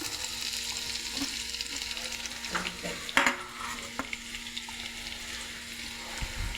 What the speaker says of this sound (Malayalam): ഇത് ചീനച്ചട്ടി എടുത്ത് വെച്ച് വെളിച്ചെണ്ണ കുറച്ചൊഴിച്ചു ഇനി അരിഞ്ഞ ചെറിയ ഉള്ളി ഇതിലേക്ക് ഇട്ട് കൊടുക്കുന്നു